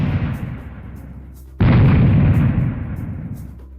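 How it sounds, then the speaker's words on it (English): Rocket launcher explosion in Serious Sam: The First Encounter, a sudden loud booming blast that rolls and decays slowly, following an earlier rumbling roar. "but the explosion sound isn't."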